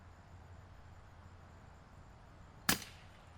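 An airgun fires a single sharp, crisp crack at a backyard squirrel. It stands out clearly against quiet outdoor ambience, with no talk.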